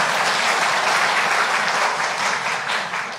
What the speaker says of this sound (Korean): 김지혜 반주자님께 박수 한 번만